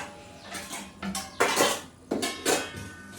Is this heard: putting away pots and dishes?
yes